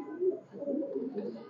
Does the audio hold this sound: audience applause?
no